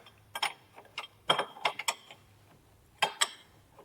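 A wrench works a 17mm bolt on the rear brakes of a 1984-1996 Corvette C4, giving a series of close, crisp metallic clicks and ratcheting ticks in short irregular bursts with quiet gaps.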